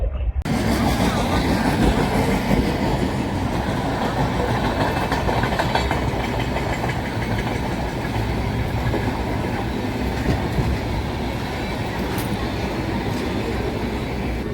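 Padmavathi Superfast Express with new LHB coaches rolling slowly through a station it skips, its steady loud rumble and faint wheel clatter filling the ride with occasional rattles, with a little talk mixed in.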